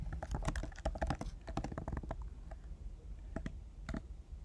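Rapid typing on a computer keyboard, with dense clicking keystrokes that come in quick bursts and then thin out to a few scattered taps, close and alone without speech.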